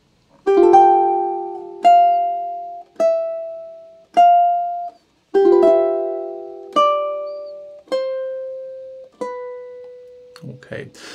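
Ukulele playing measures 7 and 8 of a theme from The Legend of Zelda, slow plucked chords and notes that ring and fade one by one, close-miked, with a brief murmur of speech at the end.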